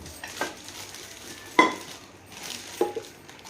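A small pressure cooker is handled, giving three or four light metallic clinks and knocks with a sharp ring at the middle, close and fairly quiet, with no talking.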